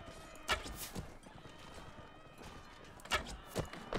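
A horse in the Mount & Blade Warband battle game neighs and whinnies over a few sharp hoofbeats, quiet and somewhat distant, the sharp bursts coming in short clusters against a faint background.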